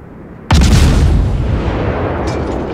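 Warship gunfire in the World of Warships naval video game: a single loud, sudden boom that rolls into a long, rumbling decay, with a faint later crackle in the tail.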